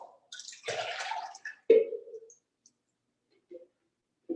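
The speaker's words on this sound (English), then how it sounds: "unsleeve the inner cup from the outer cup to drain the rinse water off" Rinse water drains from the inner cup of a seed-sprouting cup as it is lifted from the outer cup, heard as a few close, brief splashes and trickles separated by silence.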